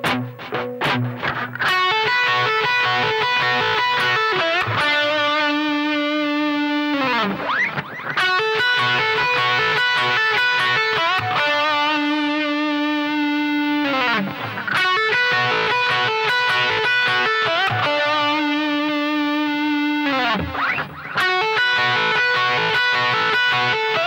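Distorted electric guitar plays a minor pentatonic lick in B with sustained notes, string bends and repeated phrases, loud and close with no talking.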